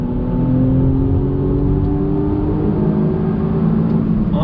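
A 2020 Audi S6 with aftermarket modifications pulls hard as the driver gets back on the throttle, its engine droning loud and steady with a low rumbling tone, heard from inside the cabin and without any talking.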